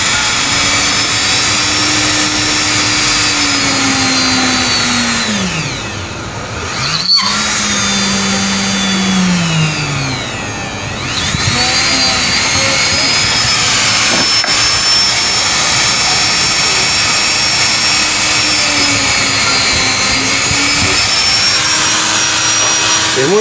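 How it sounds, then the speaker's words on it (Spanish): A Dremel rotary tool with a drill bit boring holes in PVC for a machete sheath, a steady loud high-pitched whine running almost throughout, dipping briefly twice as the bit bites into the plastic. "Voy a usar esta broca con el Dremel, se podría usar una punta a mano también, pero yo tengo el Dremel, lo voy a hacer con el Dremel."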